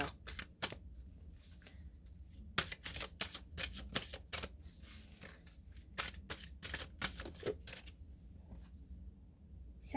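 Tarot cards shuffled and drawn by hand, a quick irregular run of crisp snaps and riffles, close and fairly quiet, with brief pauses between bursts.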